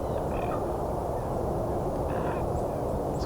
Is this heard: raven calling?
yes